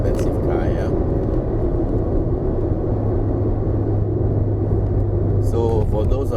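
Steady low road rumble fills the cabin of a 2019 Proton Persona on a drive up to Genting, with a constant hum under brief talk at the start and end.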